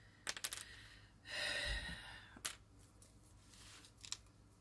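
Scissors snip through paper during journal crafting, with several quiet, close cuts and one longer slicing stroke in a calm room.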